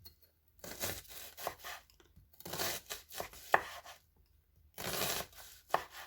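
Knife chopping an onion cut in four into thin quarter rings on a board, several bursts of quick crisp cuts separated by short pauses, close and fairly quiet.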